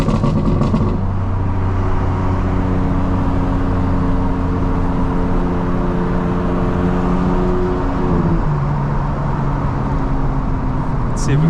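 A 900 hp 2025 BMW M4 Competition on the road, heard from inside: a loud, sustained engine drone that holds steady under acceleration for several seconds, then drops in pitch as the car eases off near the end.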